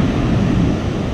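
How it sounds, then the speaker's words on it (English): Heavy ocean surf of roughly ten-foot waves breaks on a beach below the dunes after a hurricane, a loud continuous roar of churning water mixed with gusty wind buffeting the microphone. "There are some seriously big waves out there."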